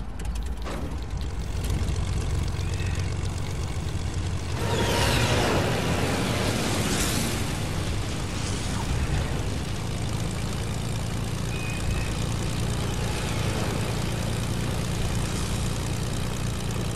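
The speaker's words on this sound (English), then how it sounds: "A plane shooting at me." An aircraft in Fortnite roars close by, a loud continuous propeller-engine drone with a rushing sweep as it passes overhead, mixed with bursts of game gunfire and no talking.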